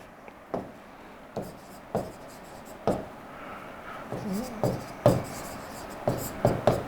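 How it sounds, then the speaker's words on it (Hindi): Chalk or marker strokes on a board during a lecture on the Indian monsoon, a series of sharp taps and short scratchy strokes spread across several seconds, fairly close and alone with no voice. "मध्य लिखता हूं"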